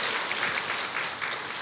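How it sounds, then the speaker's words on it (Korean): A short burst of steady applause from a church congregation during a Sunday service, many hands clapping together at an even, moderate loudness. "박수"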